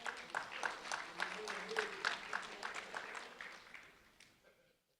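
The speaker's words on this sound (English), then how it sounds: "a round of applause for Javier Brito" Crowd applause at a sheriff's office recognition event, a steady round of clapping that fades out toward the end, with a voice speaking over it.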